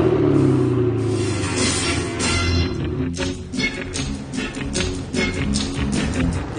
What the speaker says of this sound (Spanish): Un 612 Scaglietti que suena así.